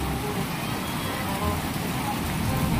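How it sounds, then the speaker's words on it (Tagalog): Heavy rain pouring down steadily during a birthday gathering, a dense loud hiss of drops drumming on surfaces that never lets up. "Ay grabing ulan mga kaibig."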